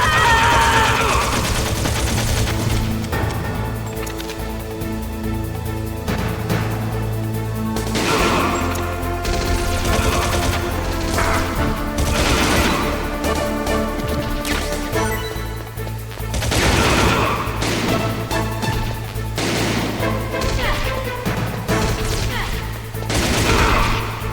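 Gunfire rattles through a fight in the video game Metal Gear Solid on Shadow Moses, with repeated loud bursts of shots over steady background game music.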